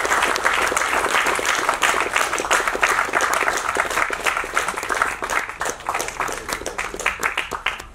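An audience at an event honouring people for social welfare work applauds, loud, sustained clapping from a large crowd with distinct individual claps audible, thinning slightly near the end.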